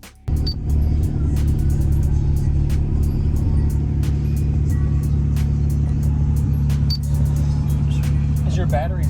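Dual subwoofers pound out heavy, continuous bass inside a car running stock battery and alternator, loud and booming with a sustained low drone and sharp rattling ticks from the cabin throughout.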